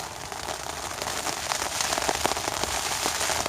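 Rain falls at a campsite in Astoria, Oregon, a steady dense patter of drops hitting surfaces, close and constant with no talk.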